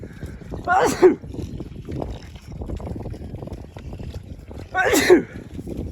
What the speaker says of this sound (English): actually I'm gonna sneeze